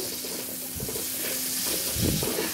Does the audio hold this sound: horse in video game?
no